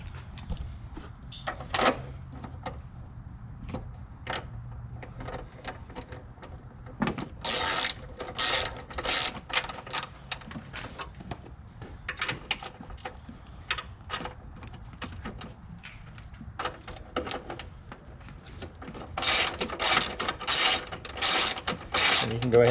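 Bolts cinched down with a ratchet to remount a hood lift bracket on a Fiat 124 Spider / Mazda MX-5 ND, rapid clicking ratchet bursts in several runs, close by, over faint background noise, no talking.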